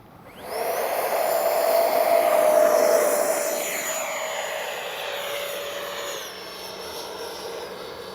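An FMS 70mm Avanti S V3 RC jet's electric ducted fan makes a loud, steady high-pitched whine with a falling Doppler sweep as it flies past, then settles into a fainter, even drone.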